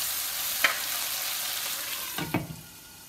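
Spices frying in oil in a covered pan for eggplant curry, a steady close sizzle with a couple of brief clatters of a lid or utensil.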